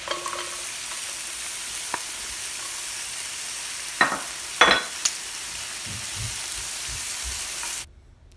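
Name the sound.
onions and garlic stir-frying in a pan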